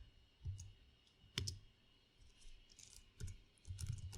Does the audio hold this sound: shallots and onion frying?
no